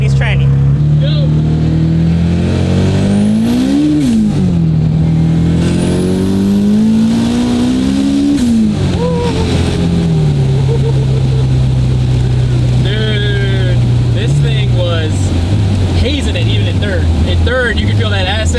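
A 750 hp Honda K24-swapped BMW E30 with a 1980s transmission accelerates hard in second gear, its engine note climbing loud and close, dipping at a shift, then pulling again while an excited voice talks over it.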